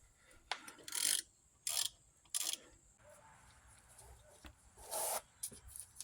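Brake caliper bolts on a Lincoln Town Car being worked loose and removed with a wrench, giving several short, fairly close bursts of metallic ratcheting and scraping separated by quiet gaps.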